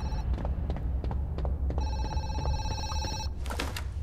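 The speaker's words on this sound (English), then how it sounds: "And then you get this phone call." A telephone rings in the horror video game Zoochosis, a bright electronic trill repeating in short bursts over low background rumble, moderately loud with no voices over it.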